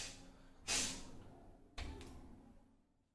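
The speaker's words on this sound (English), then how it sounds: "This is called sniffling." A person with a cold and a runny nose sniffles twice through the nose, a sharp wet intake followed by a second shorter one, close and fairly faint against quiet room tone.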